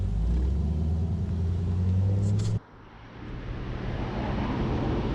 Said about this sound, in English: Nice punchy spec Corvette.